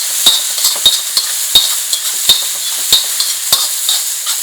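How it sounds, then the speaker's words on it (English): Green peas are stirred in a sizzling frying pan, a spoon knocking the pan in regular, sharp taps about every half second over a steady loud fry. "A quick mix to my green peas."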